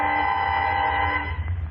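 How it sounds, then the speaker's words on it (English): A deep, sustained horn blares loud and close in a dense cold foggy night, a steady wailing tone that swells then wavers near the end, staged as a radio drama effect. "Foghorns wailed their ominous calls into the night."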